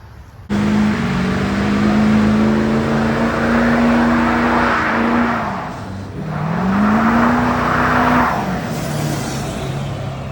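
A Ford 6.4 diesel pickup truck drives past steadily at close range, its loud engine droning with a dip in pitch midway before rising again, with no talk.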